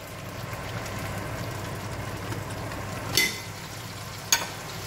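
A half rabbit browns in a pan with onions, giving a steady close sizzle and frying crackle throughout, with two brief sharper scrapes of stirring.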